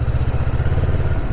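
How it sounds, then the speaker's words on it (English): Motorcycle engine held with the clutch in as the throttle is blipped for a downshift, a steady close-up throbbing engine note over about a second. "you guys just give your throttle a little blip while your clutch is in"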